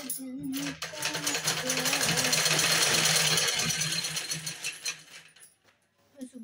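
A home sewing machine stitches in a steady, continuous whirring run for several seconds, fairly close and loud, starting and stopping with brief pauses, with some faint background voices or music underneath.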